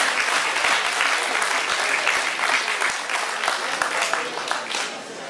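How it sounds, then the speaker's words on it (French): Steady crowd applause at an agricultural fair in Saint-André-les-Alpes, dense clapping that fades slightly near the end. "on peut les applaudir, je pense"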